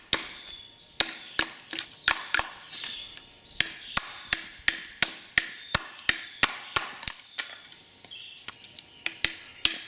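Rapid series of sharp, close chops into a bamboo stalk, cutting a knuckle off to shape a bow drill handhold, each crisp wooden strike fairly evenly spaced and continuing for about ten seconds with no talk.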